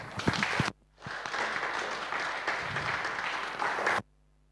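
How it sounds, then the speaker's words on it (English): A crowd applauds for about three seconds at a touring car race event at Brands Hatch Indy, a dense wash of clapping that starts and stops abruptly, preceded by a few sharp sounds. "And once again, just an applause for our top 3"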